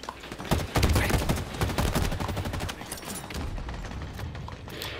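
Rapid pistol gunfire in the Halo Infinite multiplayer shooter, a dense burst of sharp close shots followed by mechanical reload clicks and lighter clatter.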